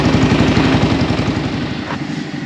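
An XPro X22 125cc motorcycle engine with an upgraded carburetor runs steadily nearby, a loud, continuous, evenly pulsing throb that eases slightly toward the end, with no talking.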